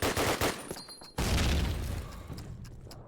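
Call of Duty: United Offensive gunfire on the Germantown map during a competitive match, with quick bursts of shots followed by a long, heavy volley and fading echoing rounds, mixed with scattered game sounds.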